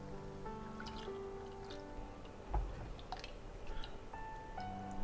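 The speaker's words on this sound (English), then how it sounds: "we're just gonna slowly pour in our dairy" Dairy trickles slowly into a butter and flour roux in a pan, giving faint wet drips and soft squishy liquid sounds, quiet and close, with no talking.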